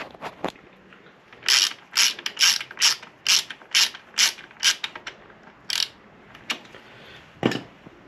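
Bursts of rapid ratchet clicking as a bolt on a Triumph Street Twin 900 pannier frame mount is worked with a ratchet wrench, close up, in about a dozen quick strokes with short pauses and no talking.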